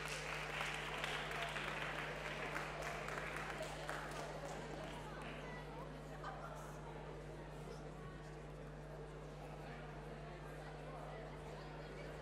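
Audience applause for performers at a young talent showcase: a dense wash of clapping strongest in the first few seconds, then fading beneath a steady electrical hum and low background noise.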